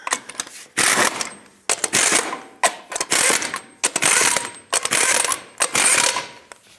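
Ratcheting on the lug nuts of a 2003-2009 Toyota 4Runner during a front brake job, in six loud, close bursts of clicking separated by short pauses.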